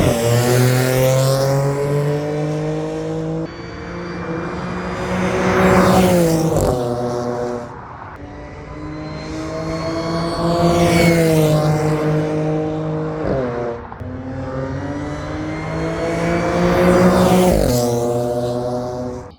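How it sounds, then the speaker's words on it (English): A supercharged Audi S4 with a new cold air intake revs repeatedly, each loud pull rising in pitch with a whine over the engine note and then dropping sharply on the shift, several cycles in a row. "I love the noises it makes. I love the Supercharger Whine."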